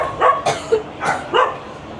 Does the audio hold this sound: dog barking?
yes